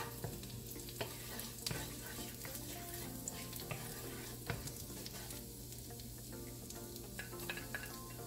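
Garlic sautéing with shrimp in butter in a pan for a quick gambas seafood dinner, a steady soft sizzle with occasional stirring clinks and no talking.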